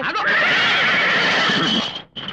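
A horse neighs in a loud, drawn-out whinny that rises and wavers for about two seconds, then cuts off briefly before a short final burst, close and clear with no talk.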